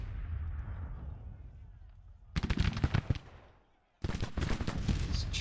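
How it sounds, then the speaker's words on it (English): Grand Tactician, a Civil War strategy game, with rolling booms of artillery and crackling volleys of musket fire arriving in two dense bursts separated by a brief lull. Volume is moderate, and a voice is faintly audible at the start. "First Confederate infantry under heavy fire."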